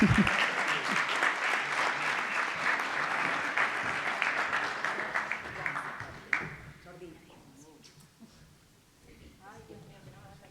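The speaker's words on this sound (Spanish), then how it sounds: "Otro aplauso para la Gabriela Clivio, fantástica." A conference audience at an expert panel in Chile applauds speaker Gabriela Clivio, dense clapping that holds for about six seconds and then cuts off, leaving a voice talking over a quiet room.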